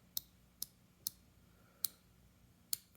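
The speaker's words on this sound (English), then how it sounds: "Listen to that bezel." A Citizen Promaster 300m BJ8058 dive watch bezel being turned, giving five crisp, sharp clicks spaced unevenly over a few seconds, close and quiet against a near-silent background.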